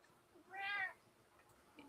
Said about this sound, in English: it sounds like we have a cat friend who also has opinions on this subject